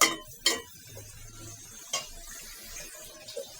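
Flat beans being stirred in a cooking pan, with a few sharp clinks of the utensil against the pan at irregular moments between quieter scraping and sizzling.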